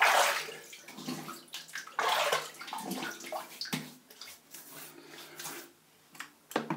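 Water splashes and sloshes as hands wet a face before a wet shave with a Gillette Aristocrat razor, giving several irregular bursts of splashing and dripping close by, with no talk.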